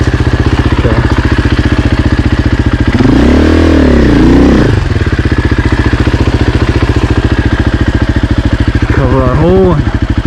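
A 2024 Husqvarna FE450 dirt bike engine on a steep hill, with a loud, close, steady throbbing exhaust and a rising and falling rev in the middle; a rider's voice comes through over the engine.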